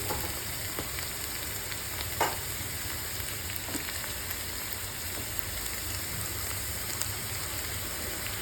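Chopped onions fry in a pan for an egg tomato curry, giving a steady, close sizzle with a constant crackling hiss and the occasional stir, with no talking.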